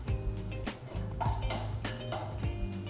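Cardamom pods and cinnamon sticks sizzling in a teaspoon of olive oil in a pan, a steady close crackle with a few utensil clinks and taps over it.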